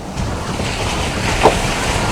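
Volkswagen Amarok V6 pickup pushing through a water crossing off-road, a steady broad rush of water and wind noise throughout, with a brief louder splash surge midway.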